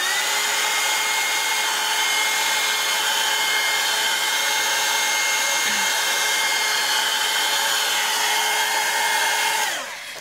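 A hair dryer runs at a steady, loud, continuous whine while drying an oxide paint art-journal background, holding an even tone for about ten seconds before switching off.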